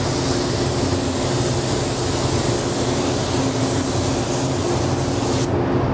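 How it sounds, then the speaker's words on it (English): Loud, continuous spray-gun hiss laying down a second coat of candy pearl paint, a steady close rush of air and atomized paint that holds unbroken for several seconds with no talking. "So I'm gonna put my second coat on now."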